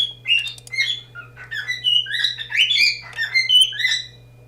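Close, loud chirps and sharp squawks from a pet bird indoors run in quick irregular bursts over a faint constant hum, with no voices.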